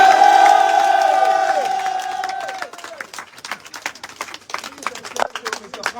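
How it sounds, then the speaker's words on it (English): A large outdoor crowd at a political gathering for CPP cheers loudly as a sustained roar, then breaks into scattered clapping and shouts as the cheering fades. "If this is what we agree over, please clap for CPP."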